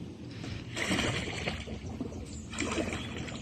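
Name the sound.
Pelican kayak cruising down a creek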